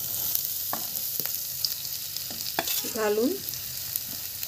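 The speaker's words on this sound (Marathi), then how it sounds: "तुपावर भाजून घेऊया" Grated coconut roasts in ghee in a kadai, a soft sizzle under scattered spoon taps and scrapes, with a brief spoken word partway through.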